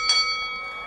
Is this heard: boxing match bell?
yes